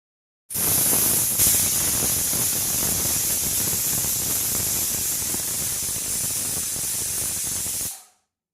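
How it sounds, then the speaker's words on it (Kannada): Pressure cooker hissing steadily with steam while boiling dal and vegetables with water and salt for sambar, a loud continuous jet of noise holding for about seven seconds before cutting off abruptly. "2 ಕುಕ್ಕರ್ ವಿಜಿಲ್ ಬರೋ ತನಕ ಕೂಗಿಸ್ಕೊಳ್ಬೇಕು"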